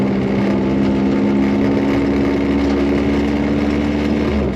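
A Honda Civic with a stanced setup runs in first gear, giving a steady, close engine drone with a low harmonic hum that holds evenly throughout, with no talking.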